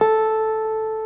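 A single clear electric guitar note rings out and sustains, fading slowly, with a faint second touch on the string partway through.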